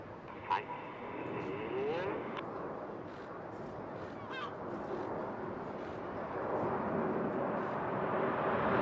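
Red Arrows jets flying in formation at the Eastbourne Airshow, a broad distant engine roar that swells steadily, heard under a commentator's voice.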